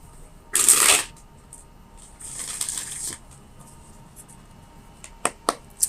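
Tarot cards are shuffled close by in two riffling bursts, one sharp and loud and a longer softer one after it, then a few quick taps as the deck is squared.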